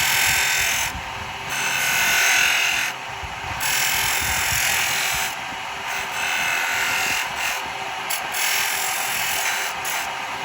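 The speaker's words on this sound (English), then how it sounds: "I've got to sand it a little bit." Sanding a wooden Christmas cracker spinning on a woodturning lathe gives a steady, close hiss of abrasive on wood over the motor's hum, with brief dips and swells in loudness as the paper is moved along the piece.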